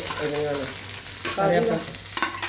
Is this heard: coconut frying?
yes